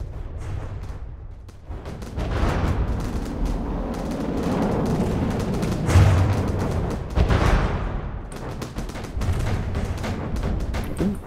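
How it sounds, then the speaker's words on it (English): Torpedo hits explode in the naval video game Sea Encounters, a continuous barrage of rumbling booms and crackling blasts with sharp impacts layered over a dense battle roar. "I think these are just torpedoes that hit, I am surprised"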